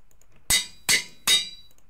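A Minecraft anvil is used in a survival game: three sharp metallic clangs in quick, evenly spaced succession, loud and close, with nothing else around them.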